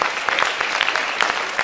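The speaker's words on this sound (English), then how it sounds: "So a huge round of applause to both these teachers" An audience claps for two dance teachers at a school Super Dancer grand finale, a steady wash of applause with sharper bursts throughout, fairly close and filling the whole moment without any voices.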